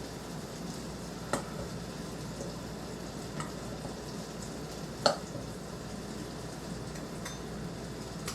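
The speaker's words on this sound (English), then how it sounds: "And yep, they are a sizzling." Floured striped bass pieces sizzle steadily in hot oil in a pan, a continuous crackling hiss with a couple of sharper pops, fairly quiet and close, no talking.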